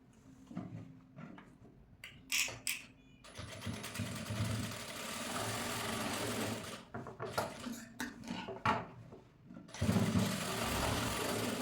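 Sewing machine stitching the front and back pieces of a princess-cut blouse together, a steady close whirring run that stops and restarts in several bursts with brief pauses between.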